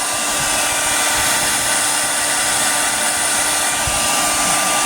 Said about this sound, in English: I'm going to apply some heat right quick, real fast.